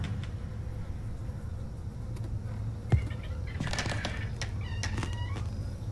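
Cat meows in the Summer of '58 video game, a few short calls standing out over a steady low ambient drone, with faint chirps and other eerie background noises.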